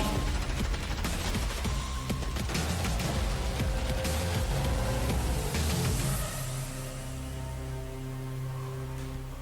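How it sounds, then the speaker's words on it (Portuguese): Bursts of rapid gunfire crackle densely over a rumbling mechanical backdrop, fading into a steadier low hum toward the end, from the shooter video game Escape from Tarkov. "a gente entendeu que é um jogo de tiro"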